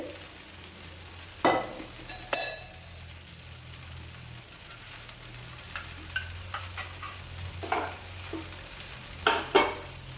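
Oil sizzles in a pan for coriander chutney dosa, a soft, steady frying hiss close by with scattered clinks and scrapes, and no talking.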